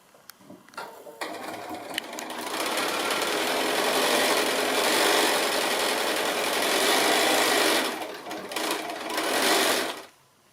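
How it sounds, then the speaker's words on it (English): A sewing machine stitches lines across a fat quarter tote bag, whirring steadily in one long run of about six seconds, flanked by short start-and-stop bursts and a few light clicks, close and clear with no voices. "So I've got 3 lines of sewing so that it catches that centre piece in."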